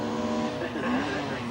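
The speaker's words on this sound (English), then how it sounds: "The Nissan 240 RS" A Nissan 240 RS rally car, two-wheel drive with a 2.4-litre twin-cam engine, screams past at speed on a forest rallysprint stage, its engine note rising and falling loudly over a brief moment.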